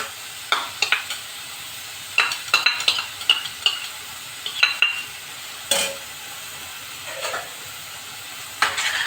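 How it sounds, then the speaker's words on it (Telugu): Tomatoes frying with ginger garlic paste in a pan, a steady soft sizzle under repeated scraping and clinking stirs of a spoon against the pan. "ఈ టమాటా అంతా ఇట్లా బాగా ఫ్రై చేసుకున్నాక ఇవ్వండి అల్లం వెల్లుల్లి పేస్ట్"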